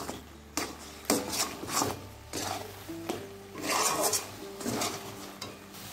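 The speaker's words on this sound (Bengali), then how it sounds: "এবার এটা দিয়েও নাড়তে থাকবো। নেড়ে নেড়ে এর সঙ্গে ভালো করে মিশিয়ে নিতে হবে।" A utensil repeatedly scrapes and clatters against a pan while green chili paste is stirred into vegetables, giving a rhythmic series of close scraping strokes.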